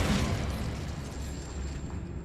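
A fiery Incendio spell cast in Hogwarts Legacy bursts out as a dense, roaring whoosh of flame with a boomy low rumble, loud and sustained for about two seconds with no voice over it.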